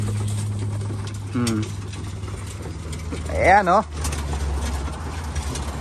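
About 20 racing pigeons coo a couple of times in an enclosed loft, with a steady mechanical hum underneath and someone speaking briefly.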